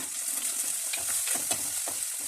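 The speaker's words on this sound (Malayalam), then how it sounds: "വെളിച്ചെണ്ണ ചൂടായതിന് ശേഷം അതിലേക്ക് ചതച്ച് വെച്ചിരിക്കുന്ന ചെറിയ ഉള്ളി ചേർത്ത് കൊടുക്കുക." Crushed small onions, ginger and green chillies sauté in hot coconut oil, crackling in a steady close sizzle with a few brief stirring scrapes.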